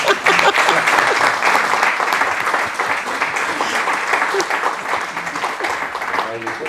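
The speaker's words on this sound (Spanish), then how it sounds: "un aplauso para tu mujer" Sustained audience applause at a talk about life at the Instituto Cervantes, a dense crowd clapping steadily and loudly for the full stretch, with a voice briefly audible underneath.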